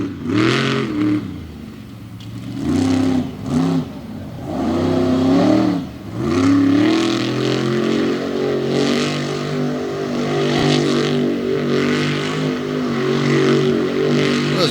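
A monster truck at the Bloomsburg Fairgrounds freestyle revs hard while tearing through dirt and sod, its engine surging and dropping in repeated loud bursts before holding a roaring, rising drone, with crowd noise beneath.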